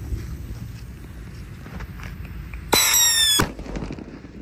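A jumbo Pearl Thunder firework goes off in one loud, close burst lasting under a second, shrill whistling tones riding over a crackling rush, then cutting out abruptly against a low, steady outdoor background hum.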